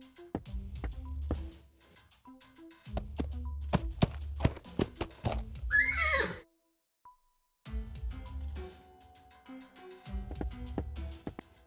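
A horse in an adventure video game neighs once, a short whinny among clip-clopping hooves and light tapping set against soft game music.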